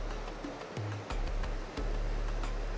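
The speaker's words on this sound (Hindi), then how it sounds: "पानी बह रहा है" Hot spring water flows at Manikaran Gurudwara in a continuous rushing hiss, close and steady, with a low droning hum underneath that cuts in and out.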